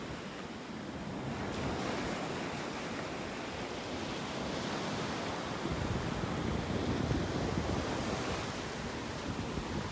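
Ocean surf rolling onto a beach in North Naples, Florida, a continuous loud wash of breaking waves with wind buffeting the microphone, no voices.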